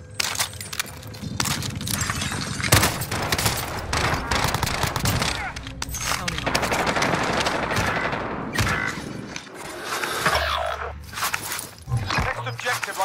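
Video game gunfire in Warzone, with dense bursts of shots and automatic fire crackling across a busy battlefield, loud and continuous, mixed with game radio voices and other action noise.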